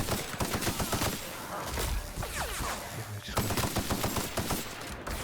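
Rapid automatic gunfire from a weapon in The Outer Worlds, a sci-fi shooter, with loud, close bursts of shots rattling through most of the stretch and a brief lull in the middle.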